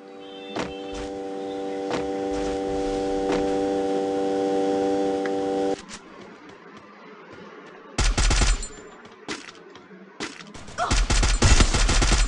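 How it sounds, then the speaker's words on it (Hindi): Gunfire in the mobile shooter Free Fire, heard as a steady humming stretch followed by several loud, abrupt bursts of shots separated by quieter gaps, with a player speaking faintly. "ये बंदे सामने वाले ग्लू पे फायर कर रहा था"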